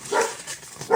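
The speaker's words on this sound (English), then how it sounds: "you hear my dog barking in the background because she's upset that she can't go outside" A pet dog, upset at being kept indoors, barks twice in the background of a room, short muffled woofs spaced about a second apart.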